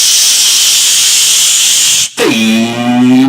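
A loud, steady steam release hiss holds for about two seconds, cuts out briefly, then resumes as a sweeping whistling hiss with a sliding tone underneath.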